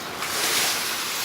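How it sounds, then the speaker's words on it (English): Sea waves wash onto the shore at Hopton, a broad hissing surge of surf that swells and holds for a moment, heard close with some wind on the microphone. "Wait for a big wave."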